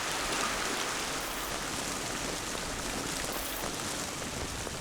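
Steady heavy rain falls on Christmas Island during the wet season, a dense continuous hiss of drops pattering on surfaces, close and even throughout with no voices.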